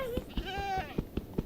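Minecraft goats bleat a wavering, nasal cry once, close and clear, over a steady run of soft rhythmic thumps.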